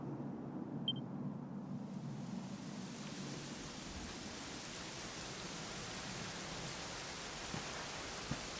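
Steady rain in the video game Dragon Quest 11, a soft even hiss of falling water with low rumbling underneath, continuous and fairly quiet throughout with no talking.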